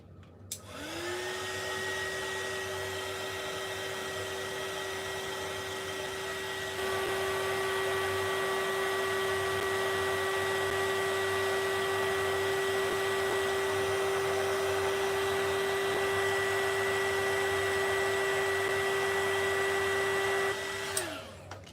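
A heat tool used to heat-set woodless watercolor pencil on a coloring page runs continuously for about twenty seconds, a loud, close, steady whirring whine that switches on at the start and cuts off at the end.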